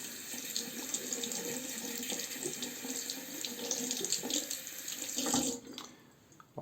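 Running tap water splashes steadily while rinsing a Merkur Progress adjustable safety razor, a continuous close hiss with small fluctuations before the flow cuts off near the end.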